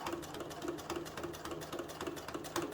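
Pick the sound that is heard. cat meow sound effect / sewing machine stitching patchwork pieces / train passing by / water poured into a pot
sewing machine stitching patchwork pieces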